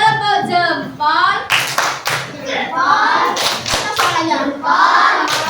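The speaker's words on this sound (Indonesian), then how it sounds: "beri tepuk jempol untuk kelompok 4" Primary school children in a religion class clap out the rhythmic 'tepuk jempol' chant for a group, loud sharp claps alternating with sung, chanted voices.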